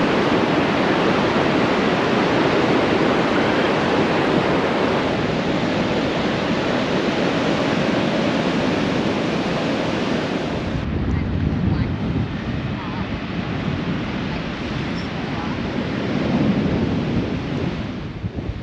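Ocean surf on the beach at South Stradbroke Island, a continuous loud roaring wash of breaking waves mixed with strong wind buffeting the microphone.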